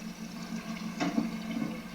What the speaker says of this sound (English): there's so much oil here that it just bubbles the water.